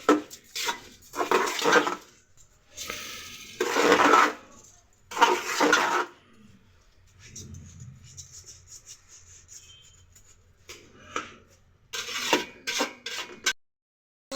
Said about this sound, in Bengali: ফুপ্পু নেড়ে নিচ্ছে।